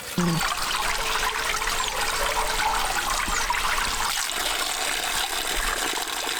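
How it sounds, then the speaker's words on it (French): Water from a mountain spring in Romania trickles and splashes into a container, a steady, close, fairly loud flow with no talking. "on récupère un petit peu d'eau à la source"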